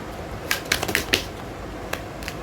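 A deck of tarot cards is shuffled in a quick burst of crisp riffling snaps, close and fairly soft, then a couple of isolated flicks trail off.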